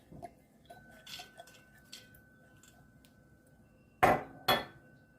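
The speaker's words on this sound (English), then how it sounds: "Then I'm going to dump my 2 cups of soaked lintel" Two cups of soaked lentils tipped into a metal pot, landing in two loud rattling bursts close together near the end, after a stretch of faint clinks and quiet kitchen sounds.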